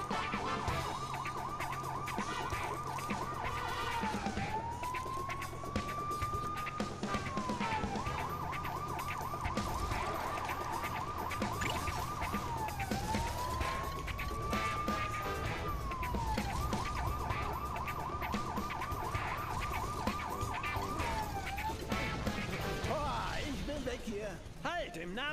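Police car siren in the Lego City Undercover video game, wailing in repeated rising and falling cycles, loud and continuous over game engine noise with a voice talking throughout.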